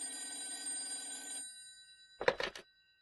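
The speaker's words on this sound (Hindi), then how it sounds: "अरे ऋषि जी का फोन होगा।" A telephone rings in a household scene from a Hindi TV drama, a short burst of bright trilling bell after a stretch of tonal music, then quiet.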